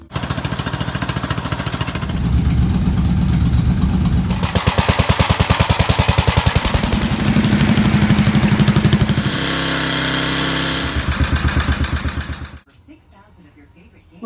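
A Honda EU2000 generator, running with its air cleaner removed after a shot of starting fluid, produces a loud, rapid engine chatter that surges and dips in rhythm for about twelve seconds, then stops suddenly, leaving quiet.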